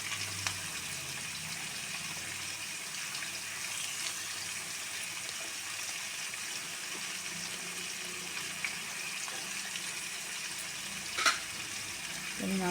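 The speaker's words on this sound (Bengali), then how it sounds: "নাড়াচাড়া দিয়ে দিচ্ছি, দিয়ে একটুখানি ঢাকা দেবো।" Boiled jackfruit curry seasoned with salt and turmeric cooking in a pan, giving a continuous soft sizzle with occasional scraping as it is stirred, plus a brief sharp clink of utensils near the end.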